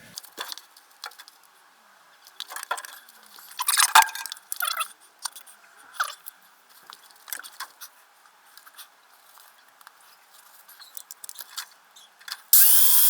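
Metal body panel being cut out of a 1958 Renault Dauphine, with scattered sharp scraping, snapping and clanking bursts at irregular intervals, close by, and a louder harsh burst at the end.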